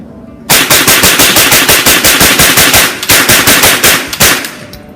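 A Remington 11-87 shotgun fires rapid strings of loud, close shots in two quick bursts, each blast sharp and evenly spaced, with a short pause between the bursts.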